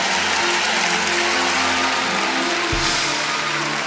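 A church congregation applauds during a service with dense, steady clapping that fills the whole moment, loud and continuous, with a faint low hum beneath.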